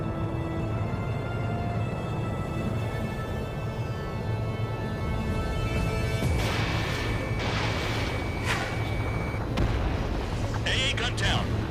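An anti-aircraft gun destroyed in the Ace Combat 7 video game: a steady low engine roar and tonal game sound build into loud explosive bursts and crashes in the second half, several sharp impacts following one another.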